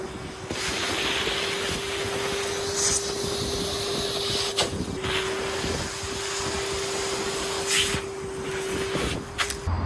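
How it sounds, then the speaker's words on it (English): Vacuum cleaner hoovering debris from the joints of a patio being grouted, a steady loud droning whine with a constant hum throughout, broken by occasional rattling bursts as grit is sucked up. "now time to hoover all the joints clear, so there's no debris left in it"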